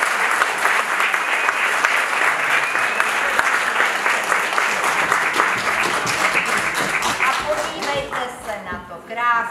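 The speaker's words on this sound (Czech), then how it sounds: "prosím vás zatleskejte" A crowd at a benefit concert breaks into sustained applause, dense and loud throughout, with many hands clapping close by and a voice speaking over it toward the end.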